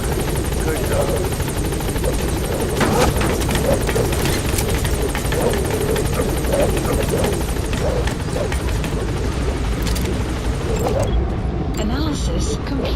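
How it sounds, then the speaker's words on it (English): A helicopter in the video game Metal Gear Solid V, with a loud, close, continuous rotor thrum and engine roar throughout while voices talk over it. "get on the chopper"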